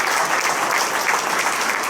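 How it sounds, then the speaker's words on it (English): Audience at a sports hall of fame ceremony in Memorial Hall, Jim Thorpe, applauds honorees from Summit Hill, a dense, steady round of clapping filling the room for two seconds with no voices on top. "can we have a nice round of applause for the guys from Summit Hill?"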